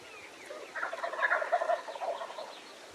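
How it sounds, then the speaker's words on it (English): Wild turkey toms gobbling at a distance from their roost in pine trees, a quick rattling burst of overlapping gobbles that rises and fades in open air. "When the toms sounded off, it was obvious they had roosted in the pines."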